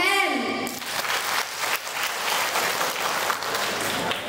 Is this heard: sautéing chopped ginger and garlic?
no